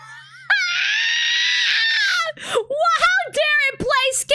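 A loud, sustained screeching scream from a newborn Chaos god in Warhammer 40k lore, holding for about two seconds and then breaking into a string of shorter wailing, crying bursts, with no talking over it.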